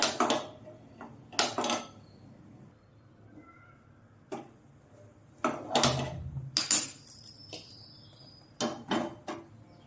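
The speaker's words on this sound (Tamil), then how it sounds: "இப்போது ஸ்டவ் ஆன் பண்ணி பாத்திரம் வச்சுக்கலாம்" Several sharp metallic clanks and knocks of a cooking pot being placed on a stove, irregular and close in a quiet room.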